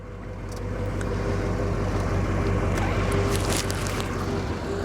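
The engine of a 1978 Porsche 928 runs close by as a loud, steady low rumble, with a constant hum underneath and no talking.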